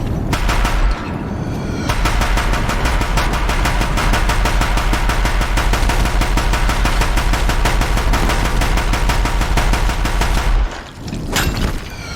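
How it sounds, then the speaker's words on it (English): Deathbringer machines firing in the video game Horizon Zero Dawn, a loud, rapid, continuous barrage of machine-gun-like shots lasting about ten seconds before cutting off, followed by a brief burst of blasts. "If the Deathbringers keep firing, this bridge will go."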